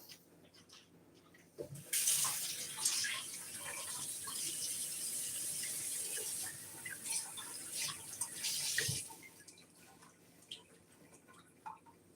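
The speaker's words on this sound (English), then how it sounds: "I'm going to rinse it out one more time, and then I'm going to put water in here." Running water pours into a container being rinsed out during home winemaking, a steady splashing flow that starts abruptly, holds for about seven seconds with gurgling variations, then cuts off, leaving faint drips and handling sounds.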